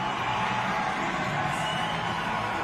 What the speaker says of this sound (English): As the crowd celebrates